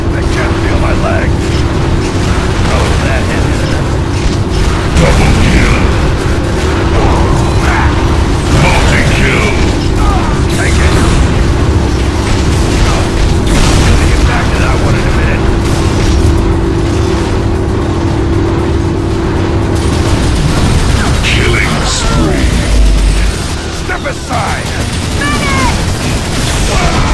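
Loud, dense combat din from the game Unreal Tournament 3: continuous rumbling blasts and mechanical clatter with occasional booms, with voices speaking over the racket.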